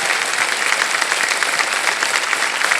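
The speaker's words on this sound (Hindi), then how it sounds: "आपके लिए हम एक बार फिर जोरदार ताली बजाना चाहें" Studio audience applause on a televised quiz show, a dense, even wash of many hands clapping at once, loud and continuous, with no talk over it.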